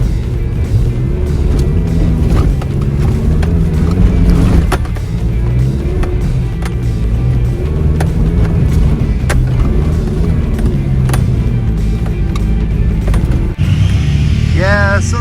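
A truck with a rusted-out tailpipe hanging from a broken hanger drives at an off-road park, its exhaust rumbling loudly and continuously while people talk.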